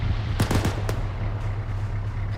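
A Mark 19 grenade launcher fires in the video game Arma 3: a quick burst of several sharp reports close together, then a single later shot, over a steady low engine hum.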